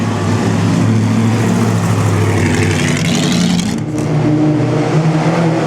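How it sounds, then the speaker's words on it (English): An 8-cylinder Alfa Romeo race car at the Mille Miglia, its engine roaring loudly and steadily up close, with a brief dip partway through as it passes. "8-cylinder Alfa."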